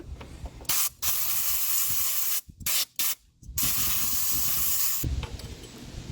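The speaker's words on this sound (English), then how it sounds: "I'm going to grab the air compressor and just give a good blow around all of them" Compressed air blasting from a blow gun around the injector bores of a 1990 Ford F Super Duty with the 7.3 IDI diesel, strong hissing bursts with brief gaps between them, loud and close, no talking.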